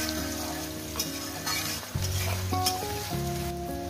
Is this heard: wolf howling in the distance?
no